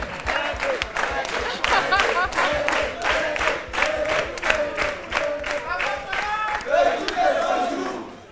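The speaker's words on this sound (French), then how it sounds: "On applaudit très fort" Loud, sustained applause from a large audience, with cheering and whoops rising over the steady clapping throughout.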